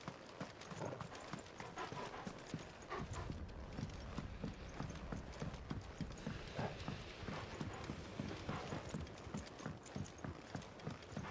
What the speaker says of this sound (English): it's the six-legged horse